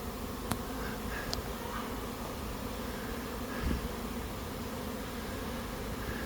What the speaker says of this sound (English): when the swarm coming in, all my bees in my hives all just sitting still